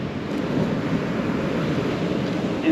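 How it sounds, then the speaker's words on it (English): Ocean waves roll onto the shore in a steady broadband wash of surf. It is loud and continuous, with some wind rumble, and no voices are heard. "Some good waves coming in now."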